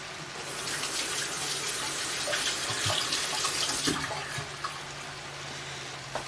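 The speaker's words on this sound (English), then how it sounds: "let me give my hands a wash" Tap water runs steadily into a kitchen sink while hands are washed beneath it, a continuous close rushing splash with small irregular shifts and no voices.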